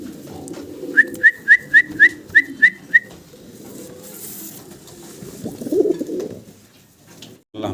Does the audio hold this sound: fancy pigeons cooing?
yes